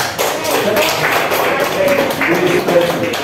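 Classroom students clapping for a team, a fairly close, continuous patter of hand claps lasting several seconds, with voices faintly mixed in.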